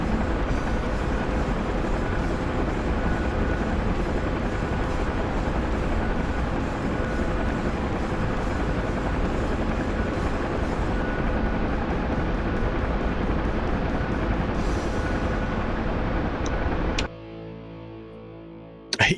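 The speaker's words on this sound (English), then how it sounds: "Hey, Chinook that's coming down." Heavy, steady rotor and engine roar of a Chinook helicopter descending to land in an Afghanistan war video game, loud and constant throughout, then cutting abruptly to a quieter, lower hum near the end.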